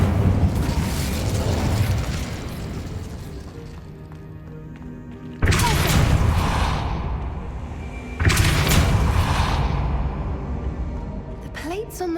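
An Incendio fire spell in a Harry Potter game bursts twice with loud whooshing blasts over a steady rumbling backdrop, each blast sharp at onset and then trailing off.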